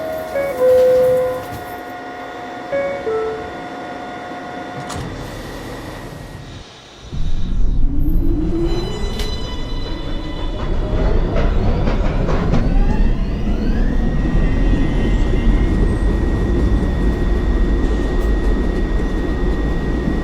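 A New York City Subway R62A 1 train closes its doors after a chime and an announcement, then pulls away, its motors whining upward in pitch as a loud, rising rumble takes over.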